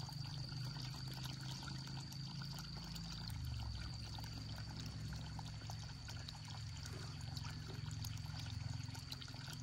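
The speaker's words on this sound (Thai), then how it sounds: "เปิดน้ำให้มันหลายๆก่อน" Water runs steadily from an outdoor tap, a continuous pouring, splashing stream at moderate volume that holds even throughout, with a low rumble underneath and no voices.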